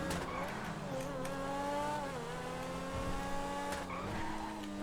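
A sports car engine drones with steady rising and falling tones in GTA 5 Online, constant and fairly loud throughout.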